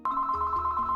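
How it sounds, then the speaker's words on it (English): A telephone rings steadily and loudly, a sustained electronic ringtone with a bright pitched tone, alone and close, announcing a COVID-19 contact tracing call from a state health department. "expect a phone call that sounds like this."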